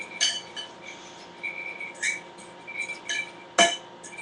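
Vegan Caesar dressing being stirred in a bowl, with light clinks and scrapes of a utensil against the bowl coming in irregular taps, one sharper clack near the end, and quiet in between.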